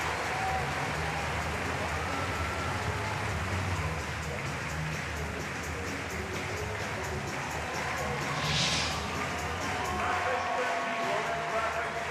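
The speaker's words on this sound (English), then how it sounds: "her two lifts draw great applause and admiration from the crowd here" A Paralympic powerlifting arena crowd gives steady, sustained applause with a dense patter of clapping that continues throughout, and a commentator's voice is faintly heard over it.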